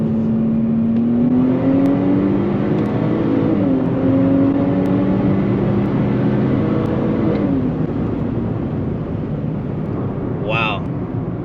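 Stock new Nissan Z sports car pulling hard, engine note climbing steadily through a gear, a brief shift dip, then rising again, loud and continuous from inside the cabin.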